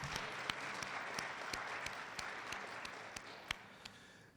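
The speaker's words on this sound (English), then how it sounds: "Maybe give them a round of applause." Banquet audience applauding after a meal at a student recognition banquet, a steady dense patter of clapping with a few sharper nearby claps standing out, fairly faint and evenly sustained throughout.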